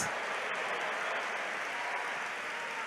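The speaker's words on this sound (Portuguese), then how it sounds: "Você consegue aplaudir ao Senhor pela sua palavra agora?" A church congregation claps together in praise during a sermon, a dense, steady wash of applause filling the room at even loudness from start to finish.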